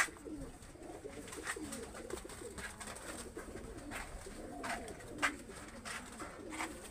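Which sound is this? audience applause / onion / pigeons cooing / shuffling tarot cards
pigeons cooing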